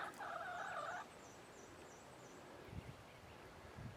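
A hen lets out one short, drawn-out call, then the yard goes quiet with faint rustling and soft scratching.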